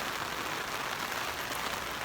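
Rain falls steadily in Baguio City, a soft, even hiss of drops on surfaces that continues without a break through the short moment.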